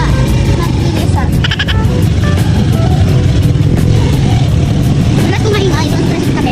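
A tricycle's small engine drones loudly and steadily while riding, with road rumble, a passing horn-like bleat and voices talking over the continuous motor noise.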